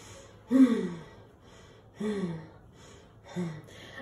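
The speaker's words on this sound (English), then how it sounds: "I'm running out of breath because I was climbing the stairs, coming upstairs" Three heavy, breathy exhalations spaced a second or so apart after climbing stairs, close and loud against a quiet room, no speech.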